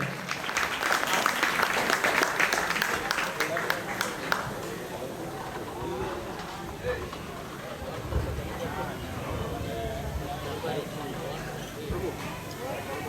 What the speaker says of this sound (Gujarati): આપ સૌની જોરદાર તાળીઓ થઈ જાય